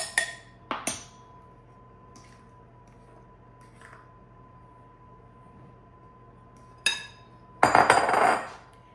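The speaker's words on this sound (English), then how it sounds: "We're just gonna mix this until it's combined." Tropical banana bread batter being mixed in a bowl: a few sharp clinks of a utensil against the bowl, then a short, louder burst of scraping, squishy stirring near the end, with a quiet room otherwise.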